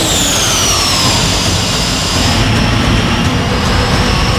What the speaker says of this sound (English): we've got a massive big jet engine out of the back